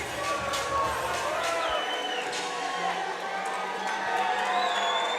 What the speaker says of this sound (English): He's getting applauses as both fighters embrace right there.